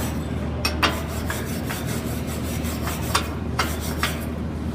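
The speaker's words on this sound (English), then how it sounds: "now you use your wire brush to finish up" A wire brush scrubbing slag off a steel weld laid with a 7018 rod: a steady, close rasping scrape with several sharper strokes standing out at an uneven pace, no talking.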